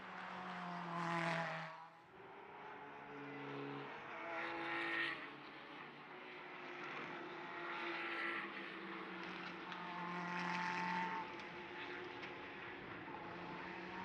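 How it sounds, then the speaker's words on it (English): A Ferrari GT race car laps the Mugello circuit during an endurance race, its engine note rising and falling in several distant passes, faint and without nearby talk. "There is the number 1 Ferrari that is pushing its way around the circuit"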